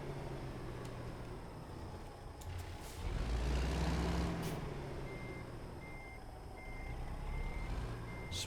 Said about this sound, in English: let's back up and go get that load